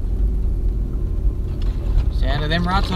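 A 4WD vehicle engine rumbles low and steady while the body bumps and jolts over rutted off-road ground, with a voice speaking near the end.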